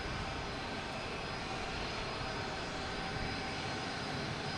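A JetBlue Embraer E190 jet arriving from Nantucket at Boston Logan Airport, heard as a steady, even engine roar that holds constant throughout at moderate distance, with no talking.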